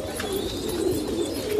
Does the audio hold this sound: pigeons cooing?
yes